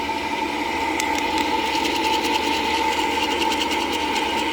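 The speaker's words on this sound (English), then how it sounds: "You want to keep doing this until you start hearing these little popping noises." Coffee beans roasting in a backyard roaster give off sparse, faint pops over the steady whirring hum of the turning drum and motor.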